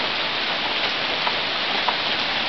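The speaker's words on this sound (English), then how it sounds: "Finally we got some rain," Steady rain falls all around, a dense even hiss of drops hitting surfaces with no pauses.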